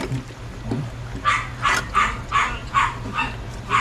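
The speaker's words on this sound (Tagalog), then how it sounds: "Aso naman ah." Dog barking in a quick series of about seven sharp, fairly close yaps, spaced roughly evenly over a low background murmur.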